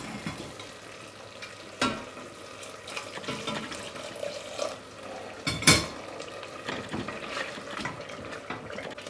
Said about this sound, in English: we're just going to start adding our stock in small increments at a time, roughly 100 ml. And then just continually stirring it.